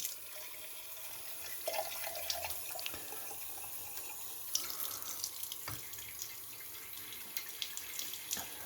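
Water runs steadily from a kitchen tap into a sink while grape-leaf rolls are being made, a continuous hissing stream with a few small splashes and clinks, fairly quiet and with no talk.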